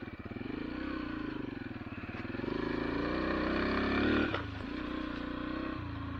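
A Yamaha TTR 125 dirt bike is ridden in second gear on urban trails, heard up close with a steady throbbing engine drone. The revs rise gradually, then ease off after a brief dip, with some clatter over the engine.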